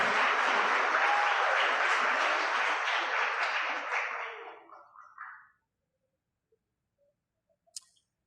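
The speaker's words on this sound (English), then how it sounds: "Graduates, let's give our instructors a round of applause." Graduates at a college graduation ceremony in Houston give a round of applause, a thick wash of clapping that holds for about four seconds, tapers off and dies away into silence, with one sharp click near the end.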